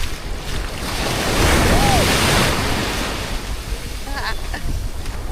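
Ocean surf on a Costa Rica beach, waves washing in a broad swelling roar that peaks and recedes, with wind buffeting the microphone throughout.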